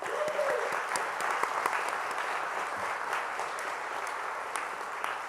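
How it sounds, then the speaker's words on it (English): An audience applauds a fraternity's national convention announcement, a steady, dense wash of clapping that holds at even volume throughout, with a few sharper individual claps standing out. "That deserves a round of applause."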